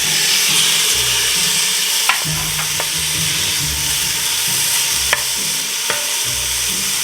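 Stew meat sizzles steadily in a pot with softened carrots and translucent onion for a goulash, a loud continuous fry with stirring and a few sharp utensil clinks.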